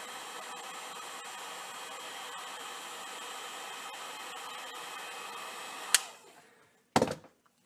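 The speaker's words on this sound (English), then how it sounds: "So what I'll do is take a heat gun and heat it up for just a few seconds" A heat gun warms a golf shaft shim, blowing with a steady, loud hiss for about six seconds before cutting off, followed by a brief sharp burst of noise.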